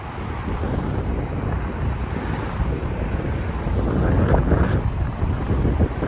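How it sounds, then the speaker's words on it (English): Strong outdoor wind buffeting a microphone on a sunny street in Toronto, a constant low rumbling roar that swells louder toward the end, with no voices. "it's a windy Star Wars day"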